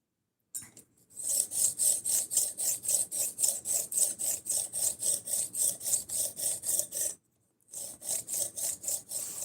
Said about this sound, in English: this is how I sharpen all my knives